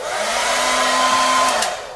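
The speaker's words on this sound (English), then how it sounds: "I'm going to dry this guy off now with a hair dryer." A hair dryer blows steadily over an oil painting, a continuous close whooshing whir with a faint tonal hum, loud and alone.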